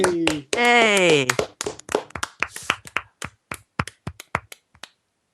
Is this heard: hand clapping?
yes